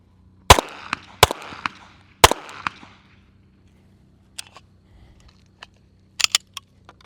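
Sig Sauer M18 pistol fired on a 100-yard range: three loud, sharp cracks in quick succession, followed by fainter distant shots and clicks from elsewhere on the range.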